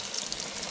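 Cheese frying in a pan over medium heat gives off a steady, soft hiss that stays low and even throughout, with no talking.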